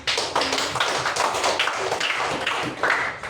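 Schoolchildren clap for a presenting group in a classroom, a dense run of overlapping hand claps with uneven bursts that carries through the whole stretch at moderate loudness.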